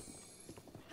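Horse hooves clip-clop on the ground in The Legend of Zelda: Breath of the Wild, a steady rhythm of soft thuds heard close under light game ambience.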